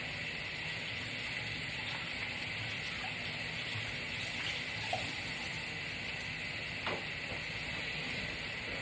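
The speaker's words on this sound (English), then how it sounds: "I'm going to wash my hands." Water runs steadily from a kitchen tap while hands are washed beneath it, a continuous hiss and splash with no talking and only a couple of small knocks along the way.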